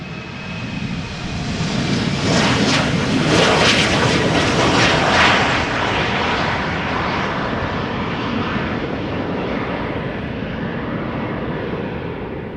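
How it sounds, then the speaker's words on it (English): A TUI Boeing Dreamliner lines up on the center runway at Amsterdam Schiphol Airport, its jet engines a loud sustained roar that swells in the first seconds and then holds as a steady whine, with no voices. "the TUI Dreamliner to Oranjestad of all places is looking to line up on the center runway"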